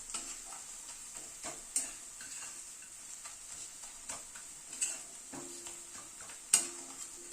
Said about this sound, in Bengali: গুঁড়ো মশলাটা একটুখানি নাড়াচাড়া করে নিচ্ছি পেঁয়াজের সাথে